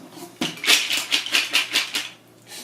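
Cooked mussels tumble into a metal strainer, a quick run of clattering shell clicks and rattles, loud and close, tapering off near the end.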